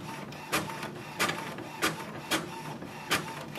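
An HP printer printing over AirPrint, sounding as a steady mechanical whir broken by five sharp, evenly spaced clacks of paper feeding, recorded close and alone with no talking.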